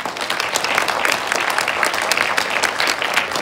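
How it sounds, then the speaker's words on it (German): Audience applause for filmmaker Eva Kirschner after her film Das Rot der Erde, a dense steady wash of many hands clapping at full volume throughout. "einen riesigen Applaus für die Eva Kirschner"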